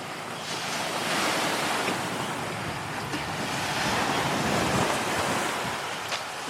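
Sea waves wash onto the shore at a beach resort, a steady broadband surf roar with gusts of wind buffeting the microphone, continuous and fairly loud throughout with no voices.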